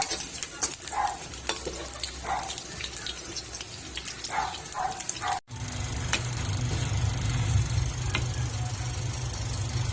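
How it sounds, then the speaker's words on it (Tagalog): Fish sizzles steadily in hot oil while a utensil stirs and scrapes the pan, with a louder, denser frying hiss in the second half. "Prito muna natin siya bago natin siya ilagay dyan sa ating lumi."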